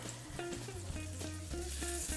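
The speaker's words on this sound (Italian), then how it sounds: "il burro è fuso, sta sfrigolando, cominciamo ad adagiare i pezzi per la prima rosolatura" Melted butter sizzles as pieces of pork rib brown in the pan, a steady close frying hiss that continues throughout with a faint background tone and no talk.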